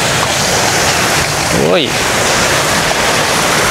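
Balagbag Falls pouring and spraying water, a loud continuous rushing roar up close, with a brief voiced exclamation cutting through the middle.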